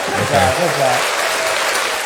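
Clapping hands at a talk show recap, a dense burst of claps mixed with a voice talking over it, fairly loud and close.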